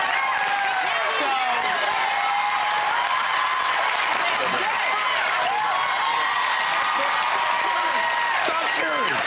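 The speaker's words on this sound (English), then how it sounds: "Stop cheering." A studio audience keeps up loud, steady cheering and applause throughout, with whoops and excited voices layered over the dense, continuous crowd noise.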